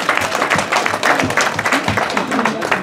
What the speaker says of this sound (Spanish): Un aplauso a los niños de Nesa.